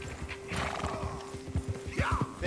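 Horse in Red Dead Redemption 2 whinnying loudly while its hooves clip-clop in a steady, close rhythm, with a faint game tone humming underneath.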